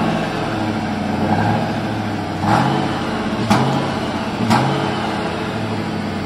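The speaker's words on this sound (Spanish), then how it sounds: "Váyanse al escape para que escuchen ese ruidito" A 1995 Ford Mustang GT with a 5.0 V8 idles steadily, its low exhaust rumble recorded close up, with a few brief revs or bursts rising above the even drone.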